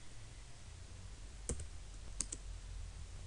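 A few sharp keystrokes on a computer keyboard while a cron job is typed in a Linux terminal, isolated clicks spaced over quiet room hiss, one single tap then a quick pair.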